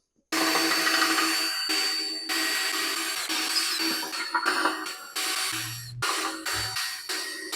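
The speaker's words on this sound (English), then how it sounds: "See if we can drill out rivets without breaking a bit." A power drill whines steadily, its pitch dropping and surging as it bites into metal rivets on a scrap go-kart, with brief low grinding bursts near the end.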